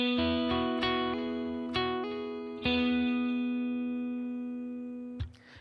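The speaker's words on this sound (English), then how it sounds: "This song starts off with a little keyboard line that sounds like this." An electric guitar plays the keyboard intro line of a song, a few clean picked notes and chords that ring out and sustain, decaying slowly, with a final soft strum at the end, alone without talk.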